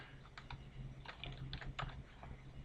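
Fingers type on a computer keyboard while coding a CSS file, a quick run of soft, irregular key clicks in small bursts, quiet and close, with no talking.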